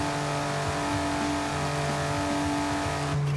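A BMW i8 in the racing game Forza Horizon 5 holds a loud, steady engine drone at its top speed of about 310 km/h, a sustained high whine with no voices.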